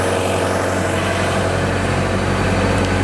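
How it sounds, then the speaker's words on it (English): A gas-engine air compressor runs wide open, used to help start a Detroit Diesel: a loud, steady, unbroken engine drone with a deep low hum and a rough mechanical rattle, holding constant throughout with no voices. "Air compressor running wide open up there, the gas."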